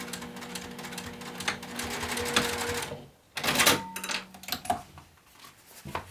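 Sewing machine stitching a coin pouch onto a wallet, giving a quick rattling stitch run that stops abruptly, followed by clicks and handling sounds of the fabric.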